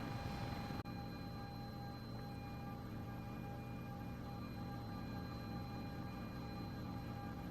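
A CowanSim S-76 helicopter in Microsoft Flight Simulator holds a steady cruise, with a constant droning rotor and engine hum and faint tonal whine. The hum is even and continuous, with a brief dip near the start.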